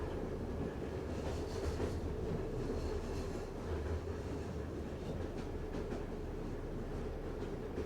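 A train ride in a video game: a steady, dense rolling rumble with faint rhythmic clatter from the wheels, continuous and fairly loud throughout, with no voices.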